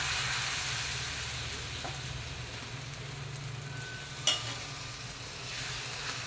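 Steady soft sizzling of pudla batter frying in an oiled pan, a constant hiss with a small clink partway through.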